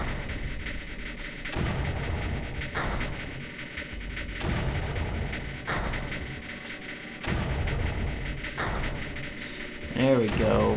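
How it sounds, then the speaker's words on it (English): Mortar artillery in the video game Creeper World fires in repeated heavy booms every second or two, each with a short decaying tail, with game noise between shots. "I'll get a second mortar up as well. Yeah, look at that devastation."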